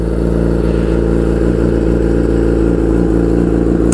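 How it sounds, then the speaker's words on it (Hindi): A super sports bike engine and exhaust idle with a loud, steady, smooth rumble, heard close up and continuous with no speech over it. "और फिर एग्जॉस्ट का जो साउंड है वो बहुत ही ज़्यादा स्मूथ हो जाता है"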